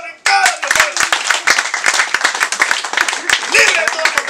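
Congregation clapping during a lively Spanish-language church sermon, with steady, loud, rhythmic handclaps throughout, mixed with a speaking voice.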